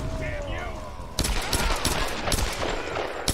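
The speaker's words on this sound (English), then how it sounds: "I still hear gunfire" Rapid bursts of gunfire from the Tomb Raider video game crackle in several loud volleys, sharp shots following one another after a quieter lead-in.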